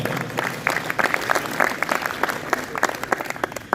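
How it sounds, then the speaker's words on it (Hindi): A crowd claps at the opening ceremony of the Jhelum Cricket League. The applause is close and energetic, with sharp individual claps standing out over the steady mass of clapping. "मैं चाहूँगा कि एक दफ़ा तालियां हो जाए रहबर फाउंडेशन के लिए"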